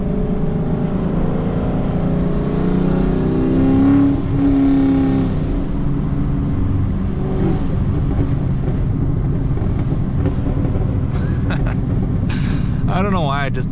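A Chevrolet Camaro LT1 with a popcorn burble exhaust tune drones and rumbles from inside while driving, with rising engine revs and intermittent crackles, under occasional talking.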